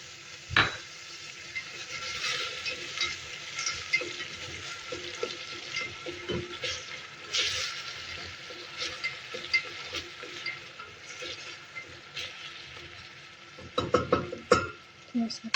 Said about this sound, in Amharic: አሁን ዘይቱን እጨምራለሁ።